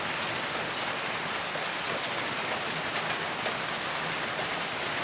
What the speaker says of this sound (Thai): ฝนตกพายุเข้าใกล้หนาวอีกแล้วพี่น้อง